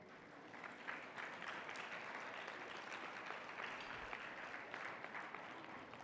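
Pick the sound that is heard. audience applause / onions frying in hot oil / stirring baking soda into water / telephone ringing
audience applause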